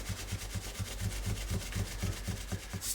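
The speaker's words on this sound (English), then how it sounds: "And it's also just polishing the frets nicely." Rhythmic rubbing strokes as the frets of a Peavey Grind NTB-5 five-string bass are burnished and polished, a steady back-and-forth scrubbing repeated about a dozen times, close and even, with no talking.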